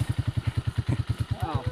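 A motorcycle on a dirt trail chugs close by in a fast, even thumping beat, its engine idling and pulsing loudly while a voice speaks briefly over it.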